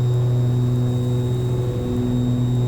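An airplane engine drones loud and steady during the takeoff roll, a strong sustained tonal roar with constant pitch close by and no voices over it.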